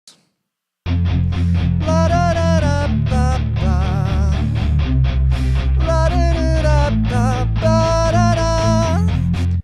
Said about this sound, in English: your backing track would sound like this